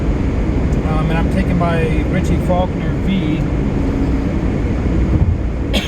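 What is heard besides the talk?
electric fan blasting to keep cool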